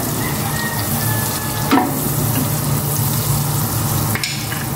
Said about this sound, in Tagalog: Lalagay ko na itong butter.